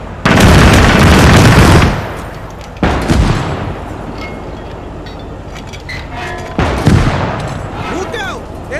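Heavy gunfire in the Gates of Hell video game's USA campaign: a long, loud volley opens, then two sharp booming bursts follow, each trailing into a rumbling decay.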